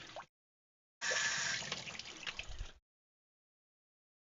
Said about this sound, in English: Rinse it with some DI water.